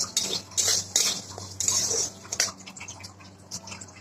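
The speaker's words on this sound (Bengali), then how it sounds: "কালার ডালটা ভেজে নিচ্ছি" Kalai dal is dry-fried in a pan, with irregular metallic clinks and scrapes of a spatula stirring the lentils close by, busier at first and then sparser, without any talk.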